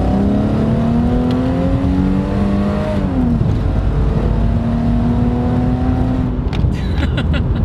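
Chrysler Crossfire SRT6 running, its supercharged engine droning loudly with rising and falling harmonic whine as it accelerates, steady and close throughout.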